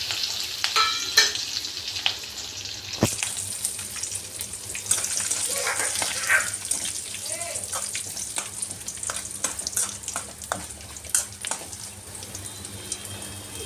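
Curry leaves added to hot oil for pulihora, tamarind rice, give a loud, sustained crackling sizzle, with scattered pops and stirring scrapes running throughout and no speech.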